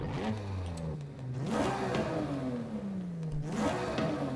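A Nissan Skyline wagon engine in Forza Horizon 5 revs hard twice, pitch climbing and falling in sweeping rises, loud and close with no talking.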